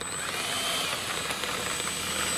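A Freewing MiG-21 radio-controlled model jet, an 80-size electric ducted fan, flies overhead with a steady high whine and a broad airy rush that holds evenly for the whole stretch.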